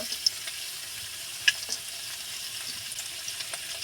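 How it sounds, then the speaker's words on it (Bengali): Chopped garlic dropped into hot oil that was already used for frying eggs, a soft, thin sizzle with a couple of sharp clicks or pops, quiet and steady. "এবার আমি তেল গরম হয়ে গেছে, প্রথমে আমি রসুনটা দিয়ে দেব।"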